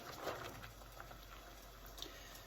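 Steady low bubbling and hissing of water boiling in a pot, fairly faint and continuous, with occasional small pops.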